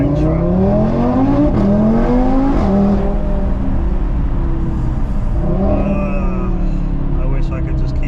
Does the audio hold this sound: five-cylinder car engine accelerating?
yes